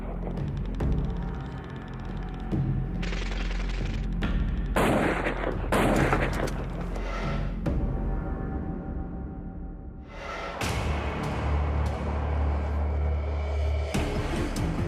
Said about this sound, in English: A heavy long-range sniper rifle that can take out a target nearly 2 kilometers away.